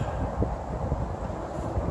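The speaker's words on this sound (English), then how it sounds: "still pretty chilly out and pretty windy" Steady low rumbling wind buffets the microphone in a continuous blustery roar, with no other sounds standing out.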